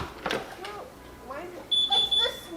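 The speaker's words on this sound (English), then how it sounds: "you hear the beep from the traditional system" A home alarm system emits a bright electronic beep pattern as a patio door is opened, with short repeated tones over a quiet room, while a person talks nearby.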